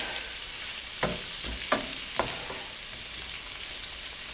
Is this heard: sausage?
yes